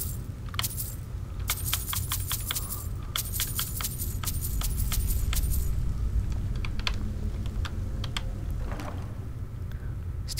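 Coins clink while a character loots in the Skyrim video game, with clusters of bright metallic jingles crowding the first few seconds and then scattered single clinks over a low, steady background hum.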